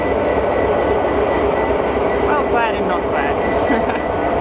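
The Inlander passenger train rolls into Mount Isa in Queensland, a steady loud rumble of carriages and rail noise filling the whole stretch, with a person speaking over it.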